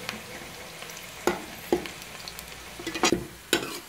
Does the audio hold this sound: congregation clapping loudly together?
no